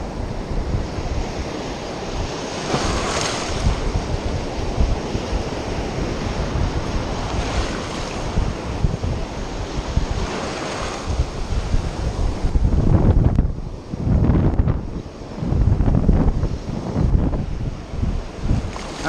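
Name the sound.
wind blowing by the water while fly casting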